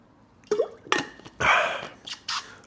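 A person sipping water from a glass, a few close, separate wet gulps and swallows spaced over a couple of seconds in an otherwise quiet room.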